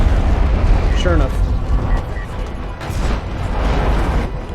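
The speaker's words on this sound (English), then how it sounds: "this should be the game ending barrage there" Artillery barrage explosions from the real-time strategy game Homeworld: Deserts of Kharak, a dense, continuous roar of overlapping booms and rumbles that stays loud throughout with no pauses.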